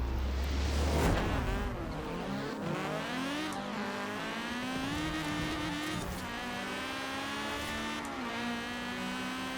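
A race car accelerating hard down a drag strip, its engine howling as the pitch climbs steadily and drops back at each gear change, loud and close throughout with no voices.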